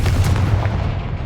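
A Confringo blasting spell bursts in the Hogwarts Legacy video game as a heavy, booming explosion with a deep rumble that fills the whole moment, loud and close.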